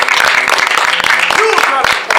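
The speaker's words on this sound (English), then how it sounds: "Everybody give a big round of applause." An audience claps steadily throughout a live event, a dense, even wash of applause with a voice talking over it the whole time.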